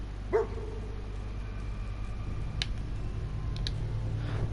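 A single short dog bark from the video game Fallout 4 sounds near the start, followed by faint clicks over a steady low hum.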